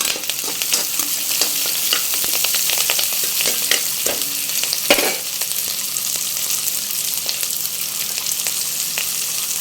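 Curry leaves frying in hot oil for a bitter gourd curry, a dense continuous sizzle with sharp crackles and pops, plus a brief louder burst partway through.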